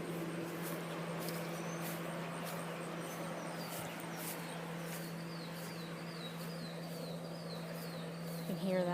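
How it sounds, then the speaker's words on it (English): Faint bird chirps repeat in short rising series outdoors in a quiet natural setting, sitting over a steady buzzing hum and background noise. "Birds chirping."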